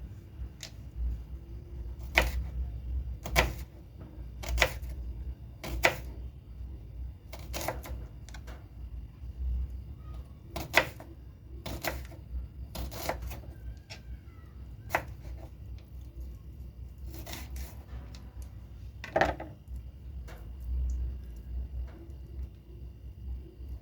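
A knife slices an onion into strips for a garden salad, sharp chopping taps against a board in uneven bursts, close and distinct over a quiet background.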